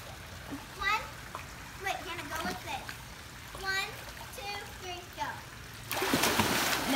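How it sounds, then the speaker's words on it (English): Children chatter and call out beside an outdoor swimming pool, with small splashes, then a loud, close, broadband splash near the end as they jump into the water together. "No, let's like jump in."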